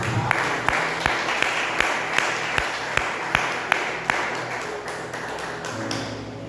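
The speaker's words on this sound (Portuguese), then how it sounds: "Quem pode aplaudir o Senhor Jesus?" A church congregation applauds Jesus with a steady roomful of clapping, and sharp individual claps ring out at a regular, near-rhythmic pace above the wash before it thins toward the end.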